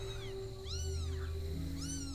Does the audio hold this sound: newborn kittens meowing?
yes